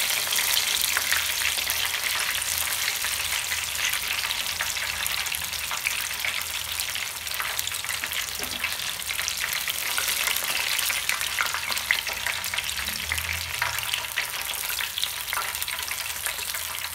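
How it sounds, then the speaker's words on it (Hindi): Mushrooms frying in a pan give a steady, loud, continuous sizzle and crackle that carries on unbroken without any talking. "आप देख सकते हैं हमारे जो मशरूम है अच्छे से फ्राई हो चुके हैं"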